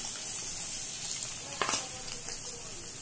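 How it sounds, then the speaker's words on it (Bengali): Ingredients fry in a pan for a Bengali-style pasta dish, giving a steady close sizzle with a brief louder burst of crackling partway through, and no voices. "এগুলো একটু লালচে বাদামি করে ভাজতে হবে"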